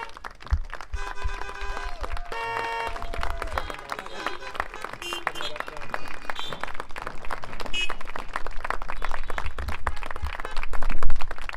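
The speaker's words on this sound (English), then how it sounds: "Another round of applause for Mr." Audience at a high school graduation ceremony applauding teacher Mark Sear, a long stretch of dense clapping with scattered cheers and voices that grows louder toward the end.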